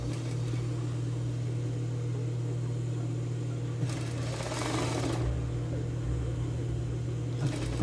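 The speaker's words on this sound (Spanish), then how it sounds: "monto uno sobre el otro, coloco piquete con piquete y voy a fijar una costura allí que me sostenga la copa manga" Sewing machine running steadily while stitching a sleeve cap seam on a casual A-line dress with tulip sleeves, a constant close mechanical hum with brief louder bursts of faster stitching near the middle.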